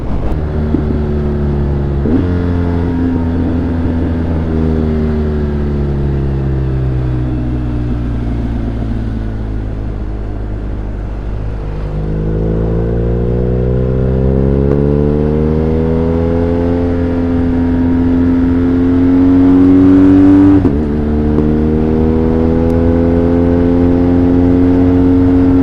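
A BMW R1250RS motorcycle accelerating on the road, its engine note climbing steadily through the gears, with quick-shifter changes cutting in as brief dips before the pitch rises again; loud and close, with wind rush and no speech.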